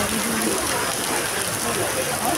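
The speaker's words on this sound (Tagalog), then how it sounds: "Yan, sobrang lakas ng ulan, grabe" Very heavy rain pours down outdoors as a dense, loud, continuous hiss that fills the whole moment without a break.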